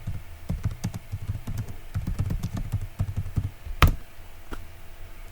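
Close, quick typing on a computer keyboard, a dense run of clicky key taps with one sharper louder strike near the end, no voices over it.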